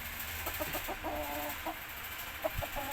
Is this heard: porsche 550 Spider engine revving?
no